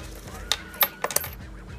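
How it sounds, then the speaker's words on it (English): An ignition key goes into a Honda C90 motorcycle fitted with a Lifan 110cc semi-automatic engine, giving a few quick, close metallic clinks and jingles over a short second. "So, ignition key in."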